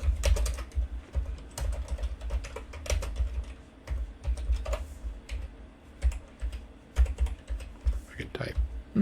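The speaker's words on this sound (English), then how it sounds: "I could type." Steady, rapid typing on a computer keyboard, close and clicky with irregular bursts of keystrokes, continuing throughout while someone talks over it.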